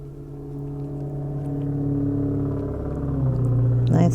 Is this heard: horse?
no